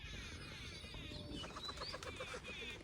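Pigeons kept for sale coo softly and chirp close by, with faint bird calls over a low background murmur.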